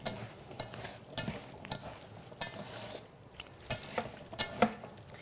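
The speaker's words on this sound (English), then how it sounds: "And then give it another little mix." Shallots being stirred into a kafta mixture in a bowl, with a series of sharp utensil scrapes and clacks at an uneven rhythm over a low background, heard up close.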